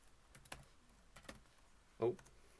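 A few scattered keystrokes on a computer keyboard as a terminal command is entered, faint and close in a quiet room, with one louder tap near the end.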